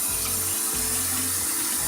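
Water runs from a tap in a steady, close, continuous rush with a low gurgling undertone, with no voices over it.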